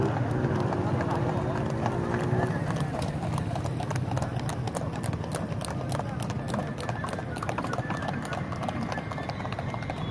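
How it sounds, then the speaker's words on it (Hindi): Horses gallop in a weekly Friday race, their hooves clip-clopping in a fast, steady drumming that stays close and loud throughout, with voices and crowd noise running underneath. "ये हर जुम्मे वाले दिन यहाँ पर घोड़ों की रेस होती है"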